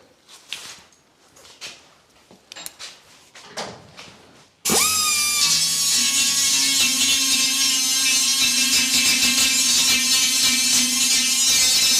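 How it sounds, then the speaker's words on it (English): An angle grinder starts up suddenly after a few light knocks and clatter in a workshop, then runs loud and steady with a high whine, while work goes on around an aircraft project. "Right, grinder."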